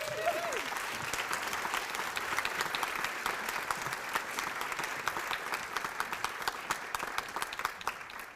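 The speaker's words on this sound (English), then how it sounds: "Clap it up for them." An audience applauds at a live international placemaking week event. Dense, steady clapping from a crowd fills the whole stretch at even strength, with a few sharper claps near the end.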